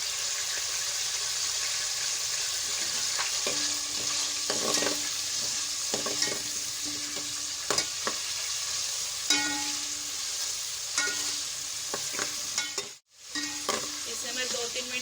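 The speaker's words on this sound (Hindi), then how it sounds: "इसे मैं 2-3 मिनट आलू को इसी ऑयल में थोड़ा सा तलूंगी" Potatoes fry in oil for a chicken biryani, with a continuous close sizzle broken by repeated scraping stirs and one brief pause near the end.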